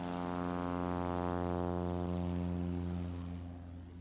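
A STOL bush-class airplane at a National STOL competition in Gainesville, Texas roars at full takeoff power, a loud, steady propeller drone that holds strong and then fades slightly as it pulls away.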